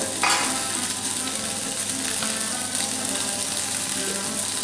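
Steady, loud sizzling of chicken frying in a hot pan, a continuous crackle with occasional pops and stirring.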